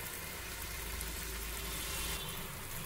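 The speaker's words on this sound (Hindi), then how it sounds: "एक ही बार में ढेर सारा धुसका फ्राई करके तैयार कर सकते हैं।" Dhuska, a rice batter, frying in hot oil makes a steady, dense sizzle with fine crackling bubbles, close and even throughout, with no voices.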